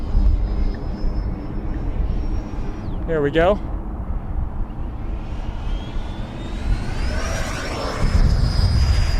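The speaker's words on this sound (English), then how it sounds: "And it looks like we got another jet going up." A Freewing F/A-18E Super Hornet RC model jet flies overhead with a high, steady whine that dips and then swells louder toward the end, over outdoor rumble, as someone speaks briefly.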